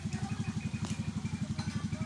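A motorcycle engine idling close by with a fast, even, throbbing pulse that holds steady for a couple of seconds.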